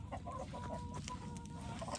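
Soft clucking from chickens near a coop, a few brief calls over a dense, steady background rumble, faint and somewhat distant.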